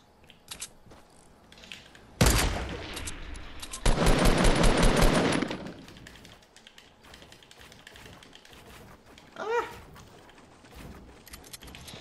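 Automatic gunfire in Fortnite Battle Royale at Tilted Towers: two loud, rapid bursts of shots, the second longer and denser, followed by scattered clicks and a brief rising whoosh near the end.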